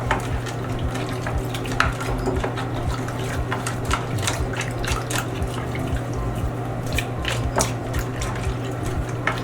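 Decorative embellished face mask is plunged and worked in sink water, producing close, irregular splashes, drips and sloshing in uneven bursts over a low background hum.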